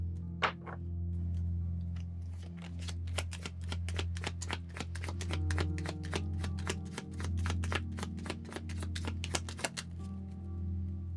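A Moonology oracle card deck being shuffled, producing a rapid run of crisp card flicks and riffles close up over a low steady hum, with no speech.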